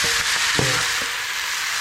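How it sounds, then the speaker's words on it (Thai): Steady, close sizzling of blanched noodles and vegetables stir-frying in a hot oiled wok, with a few soft scrapes and clinks of a utensil against the pan. "เส้นกับผักเนี่ยที่เราลวกไว้นะครับ ก็จะ เอามาผัด ให้หอมกลิ่นน้ำมันนะครับ"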